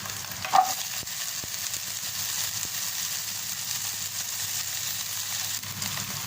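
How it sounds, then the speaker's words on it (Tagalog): A celery stick drops into a hot frying pan, giving a steady, close sizzle that runs unbroken throughout, with a brief clink near the start and no talking. "Tapos, ilagay ko na ang aking celery stick."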